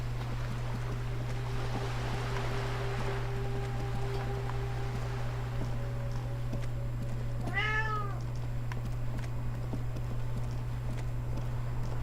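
A single clear cat meow rises and falls once in the Disco Elysium video game, heard alone over a steady low hum and quiet ambient background.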